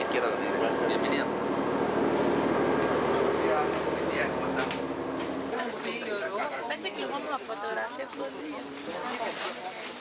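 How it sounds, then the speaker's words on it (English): The Tren a las Nubes tour train in Salta, Argentina rumbles with a steady low drone under constant chatter. The engine hum drops away about halfway through, while the voices carry on. "This train is a tour train especially built to travel to Argentina's northern alpine region."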